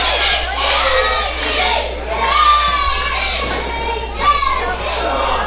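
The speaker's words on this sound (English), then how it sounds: "You hear this crowd?" A wrestling crowd cheers and shouts loudly at a match, with many high-pitched young voices rising and falling in continuous waves of noise.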